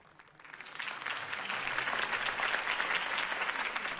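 In the Batman: The Telltale Series video game, a crowd breaks into applause after a campaign speech, the clapping swelling up quickly from quiet and then holding as a full, steady ovation.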